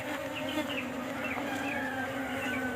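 Honeybees in a queenless colony buzz steadily, a dense continuous drone close to the hive, with no voices over it.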